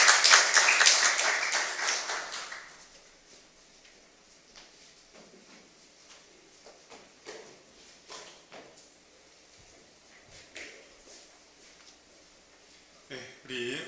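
A seminar audience at a church prayer gathering bursts into loud applause to welcome the speaker. It dies away after a few seconds, leaving scattered light taps and quiet room noise.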